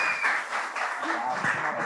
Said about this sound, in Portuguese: uma salva de palmas para o nosso amigo gente